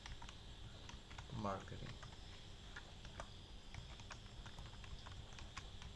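Computer keys tapped while entering a prompt, then enter pressed, a light irregular clicking under a steady background hum, with a voice speaking briefly partway through.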